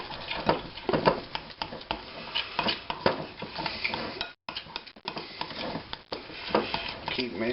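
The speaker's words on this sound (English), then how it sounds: "Keep mixing, keep mixing. It's all going to come together." Doughnut dough gets mixed in a bowl, with rapid, irregular clinks and scrapes of a utensil against the bowl repeating close by, fairly loud and alone.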